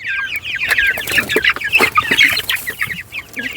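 A flock of broiler chickens clucks and squawks busily at close range, overlapping calls in quick irregular bursts with no speech.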